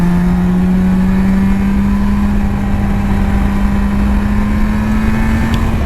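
A Suzuki RG500 two-stroke motorcycle fitted with Nikon exhausts on a road ride: a loud, continuous engine drone whose pitch climbs slowly and steadily, heard up close with no voices.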